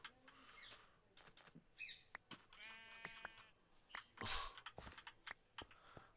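Sheep bleat in a video game, giving several short calls spread across the clip among small game noises, at a low level.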